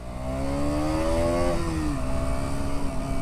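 KTM Duke 125 single-cylinder motorcycle accelerating along a road, engine note climbing through the revs, dipping at a gear change, then pulling again, loud and close with wind rumble beneath.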